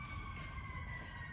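Emergency vehicle sirens wail outside, steady sustained tones held at a distance over a low rumbling background, faint and continuous through the short moment.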